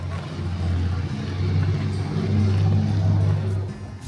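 Road traffic passes close by a vehicle pulled over on the roadside, a steady engine drone swelling and easing as vehicles go past, with no talk over it.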